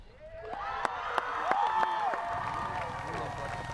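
Home football crowd cheering after a win, a swelling roar with claps, whoops and whistles, moderately distant, with voices talking over it.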